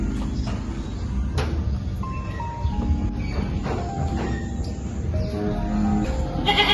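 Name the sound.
goat bleating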